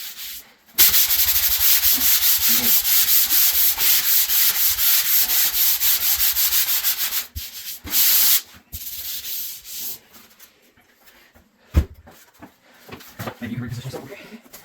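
Hand sanding of drywall joint compound makes a close, rapid, rhythmic scratching that runs steadily for several seconds, then breaks into shorter strokes with pauses and a sharp knock, speech mixed in.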